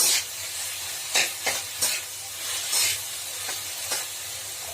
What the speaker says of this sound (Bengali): এটিও বেশ কিছুক্ষণ ধরে ভাজা ভাজা হবে